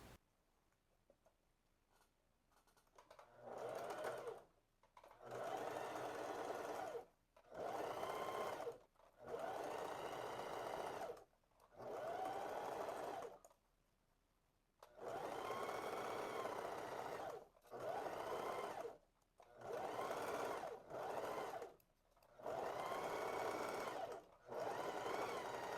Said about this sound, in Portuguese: vamos fazer agora a costura de 1 centímetro